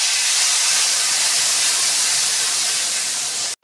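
Water poured into a hot pan of oil with Puntius fish for an ivy gourd dish hisses and sizzles loudly and steadily, then cuts off abruptly at the end.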